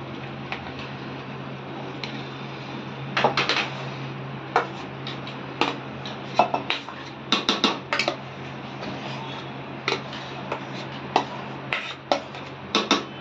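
Mashed potato being stirred into a large pot of pav bhaji cooked for about 15 people, giving irregular clinks and taps of a utensil against the pot over a steady low hum.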